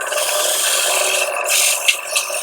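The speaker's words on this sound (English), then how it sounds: "So let's take a little bit of our sandpaper here." Sandpaper rubbing the inside of a wooden box in quick strokes, a steady close rasping scrape with a few brief louder swipes near the end.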